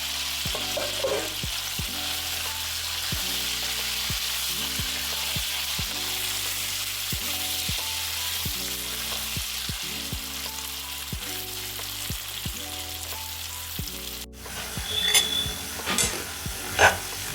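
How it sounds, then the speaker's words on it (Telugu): Chicken pieces frying in groundnut oil for a pickle, a steady bright sizzle with occasional stirring clinks, holding at an even level under light background music, rising a little with louder stirring near the end. "మరీ గోల్డెన్ కలర్లో కాకుండా లైట్ గోల్డెన్ కలర్లో వచ్చేంత వరకు వేయించుకోండి"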